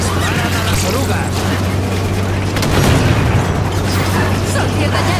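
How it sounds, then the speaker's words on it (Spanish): Heavy booms and blasts from tank cannons firing and explosions in Halo 5 Guardians gameplay form a dense, loud, continuous wall of noise with a low rumble underneath. "¡Esos cañones suenan!"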